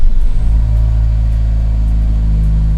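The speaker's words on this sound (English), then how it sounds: "To turn on the car, we need to press on the brake pedal and press the start button in the middle console." A Jaguar F-Type's engine fires up loudly and settles into a deep, steady idle rumble close by, with no voices over it.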